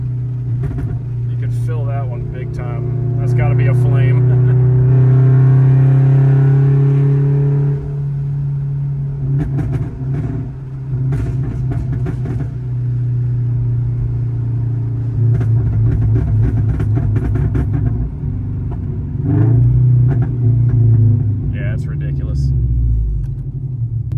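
An FRS/BRZ with a Tomei overpipe and a -12 ignition timing pop tune rumbles and revs loudly, with clusters of sharp crackling exhaust pops. People talk throughout.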